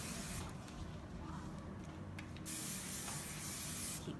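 Bursts of hairspray hiss steadily from an aerosol can, with breathy pulses and short gaps between sprays, fairly close and moderately loud.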